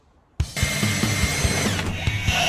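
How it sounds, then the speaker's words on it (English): Power drill boring through an aluminium bracket for rivets on a Peugeot J9 van, starting abruptly with a whine and rattling, grinding bites as the bit works through the metal, close and loud. "Just got to drill that through and rivet it down."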